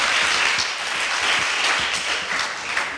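A crowd at a children's cricket camp claps continuously, a dense, even applause that holds steady throughout.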